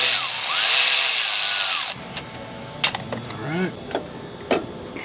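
A cordless power tool whirs loudly to loosen a hose clamp on the intercooler pipe of a 2019-2024 Dodge Ram Cummins, then stops, followed by scattered clicks and clunks of the clamp and pipe being handled.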